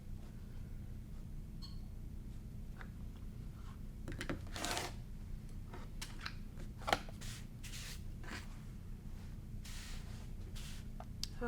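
Fabric for a quilted tabletopper is cut along a 60-degree quilting ruler with a cutter, making several soft, brief slicing swipes spread across a quiet room with low background hum.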